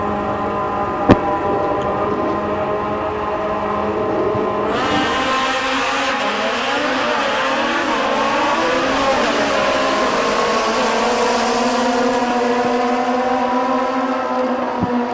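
Kawasaki ZX14 motorcycles, 2008 and 2009 models, drag racing down a strip: loud sustained engine roar from the launch, rising in pitch through the gears and staying high and steady to the end, with no talk over it.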